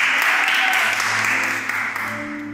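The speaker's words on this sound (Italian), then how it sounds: "applauso, applauso" Dense audience applause in a televised singing-contest studio, loud and steady at first, then easing slightly as a low hum and faint tones emerge beneath it.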